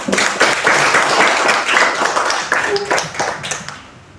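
A school class claps for a student's correct answer, a short burst of many hands clapping together, fairly close and loud, fading out toward the end.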